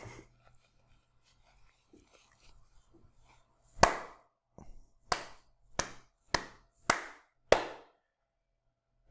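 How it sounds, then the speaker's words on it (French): One person claps their hands, six sharp, close claps in a loose rhythm after a quiet stretch with faint murmuring, each clap crisp and loud against near silence. "Je peux pas m'empêcher d'applaudir"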